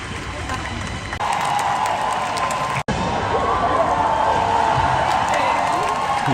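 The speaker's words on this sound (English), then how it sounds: "Please give them one more round of applause." A crowd applauds and cheers at a live stage event, a dense, steady wash of clapping and voices filling the room from start to finish, dropping out for an instant near the middle before resuming just as loud.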